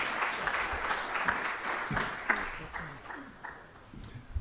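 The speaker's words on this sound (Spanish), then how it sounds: "un aplauso para Arturo Torres" Audience applause for a guest speaker at a talk on the history and geopolitics of drug trafficking in Ecuador. A steady wash of clapping runs throughout, fairly loud, with a few brief voices mixed in.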